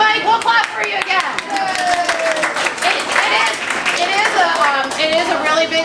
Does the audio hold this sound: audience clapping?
yes